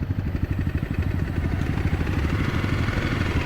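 A motorcycle engine idles close by with a steady, low, pulsing chug and faint clatter, running continuously and fairly loud with no talk over it.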